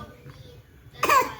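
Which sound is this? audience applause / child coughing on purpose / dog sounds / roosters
child coughing on purpose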